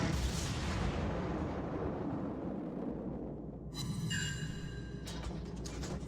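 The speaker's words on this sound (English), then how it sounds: "Selecting AP now to fire against the cruiser." Warship guns firing armour-piercing shells at a cruiser in the naval combat game World of Warships, with heavy booming salvos, a sustained rumbling roar and a couple of sharp bursts with ringing mechanical tones near the end.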